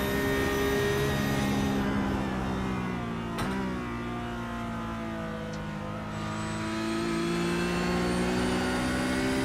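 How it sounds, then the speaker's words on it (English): Racing car engine in iRacing at Zandvoort, revving high with shifting pitch as it accelerates out of a hairpin, loud and continuous with a brief dip in the middle. "Listen to this car sing, man."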